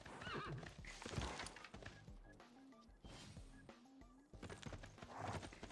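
A horse unit in the strategy game Civilization VI neighs and whinnies loudly, with hoof clip-clops mixed in, as several whinnies come in succession with no talk over them.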